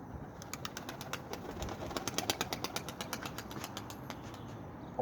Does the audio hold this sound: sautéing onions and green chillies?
no